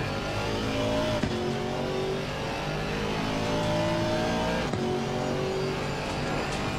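GT4 race car with a V8 engine in the racing game Assetto Corsa Competizione, a steady loud engine roar with shifting revs and brief gear-change clicks, continuous and close, with no speech.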